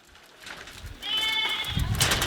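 Goats bleating repeatedly at a livestock sale during Holi, fairly close and loud, with the calls rising into a busy chorus over rustling background noise.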